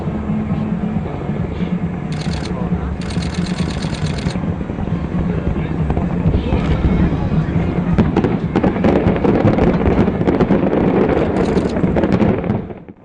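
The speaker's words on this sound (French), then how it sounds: "20h30 ce mardi soir, des détonations dans l'air. Le ciel de la capitale économique ivoirienne s'illumine de 1000 feux." Fireworks detonating over Abidjan, Côte d'Ivoire, at night for the inauguration of the Henri-Konan Bédié bridge: a loud, continuous roar of bursts and crackles for about twelve seconds, fading out at the end, with no talk.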